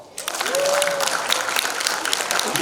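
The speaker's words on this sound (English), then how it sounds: "Applaud!" An audience at a coaching talk breaks into applause, dense steady clapping filling the whole moment with a brief whistle-like tone near the start.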